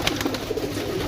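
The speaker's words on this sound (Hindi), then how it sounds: "ये कबूतर है, यकीन करो दोस्तों" Pigeons coo softly at a pigeon sale, their low, steady murmur blending into a busy background with faint chatter.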